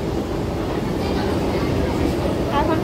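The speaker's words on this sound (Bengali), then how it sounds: "এখন পালপাড়ায় ঢুকছে গেদে লোকাল।" Gede local train pulling into a station: a loud, steady low rumble and rattle of carriages that fills the whole stretch, heard from on or near the train, with some voices beneath.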